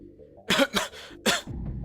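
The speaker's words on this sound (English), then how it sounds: "She started coughing suddenly." A woman coughs several times in quick succession in the video game Ever17, harsh and close, followed by a brief low rumble.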